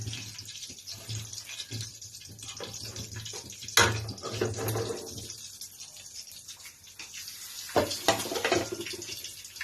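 Water runs from a tap into a pot for boiling while a fish dish is cooked, an uneven splashing pour with louder gushes and clatters, close by and heard without talk.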